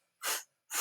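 Two quick, sharp breaths during a core workout class, each a short forceful rush of air close to the mic, separated by a brief silent pause.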